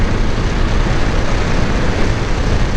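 A Suzuki Gixer motorcycle runs at full throttle near 100 km/h, a loud, dense, constant roar heavily mixed with wind rush, close and without a break.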